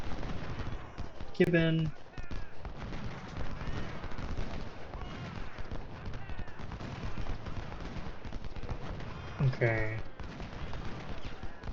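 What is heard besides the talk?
gunfire in Ultimate General Civil War video game battle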